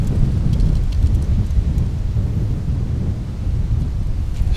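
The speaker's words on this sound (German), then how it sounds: "jetzt kommt gerade richtig geil Wind auf." Strong wind gusting across the shore of Lac de St. Cassien, a steady loud roar of low rumbling buffeting that continues without a break and may include some rain-like hiss.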